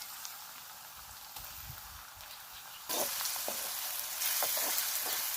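Onion and garlic fry in a pan with a steady, soft sizzle that grows noticeably louder and crackles more about halfway through, with no talking.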